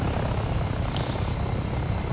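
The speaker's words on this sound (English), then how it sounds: "There's a chopper waiting for you" Steady, close helicopter rotor and engine drone from ARMA 3 fills the scene, a continuous broadband whir with no break and no voices.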